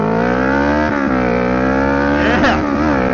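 Kawasaki Ninja 650 motorcycle revving hard under full throttle as the front wheel lifts, a loud, close engine note climbing steadily in pitch with a brief shift-like dip midway, continuous throughout.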